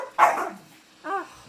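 A puppy at home gives a sharp close bark followed by a shorter higher yip, two distinct bursts with a pause between, no talking.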